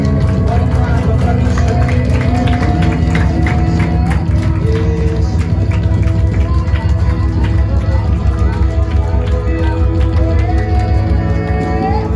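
A church congregation at a Saturday fellowship clapping hands in thanks to God, a dense continuous patter of many hands beneath loud voices and music.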